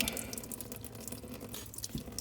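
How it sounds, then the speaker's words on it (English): Water runs and drips out of a wake boat's engine block as it is drained for winterizing, a steady close splashing trickle with no talk. "So that's a decent amount of water coming out"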